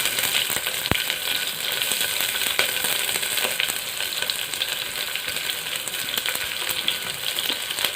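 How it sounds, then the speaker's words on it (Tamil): Onion and green chilli sautéing in a pan over a low flame, a steady close-up sizzle and crackle with a few sharp clicks of a spoon against the pan. "வெங்காயம் பச்சை மிளகாயம் வந்து நல்லா வதங்க விட்டுறலாம்."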